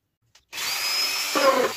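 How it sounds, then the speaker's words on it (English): A small power drill bores a pilot hole in plywood, starting after a brief tick with a short, steady whir close by that shifts in pitch as it bites. "Drill all our little pilot holes"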